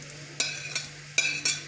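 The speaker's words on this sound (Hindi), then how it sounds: "अब इनको हम चम्मच चलाते हुए पकाते जाएंगे" A spoon stirring pieces of watermelon rind in melted sugar syrup over high heat, with four distinct scraping strokes in a quiet kitchen and a low steady hum underneath.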